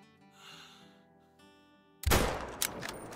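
A single loud .338 bolt-action sniper rifle shot in the hunting game Call of the Wild, a sharp blast with a rolling echo tail, following quieter ambient tones.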